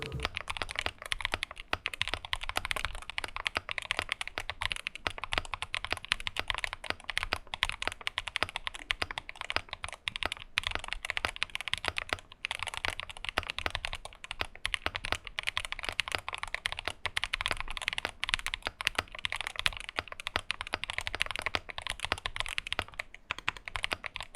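Steady typing on a CIDOO V75 aluminum 75% mechanical keyboard, a continuous fast clatter of key presses close up, with no voices.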